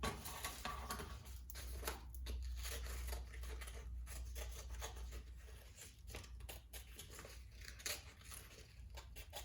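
Scissors snip through folded paper in a series of quick, close cuts with soft rustling of the sheets, no voices over them.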